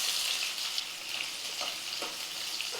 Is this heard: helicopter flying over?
no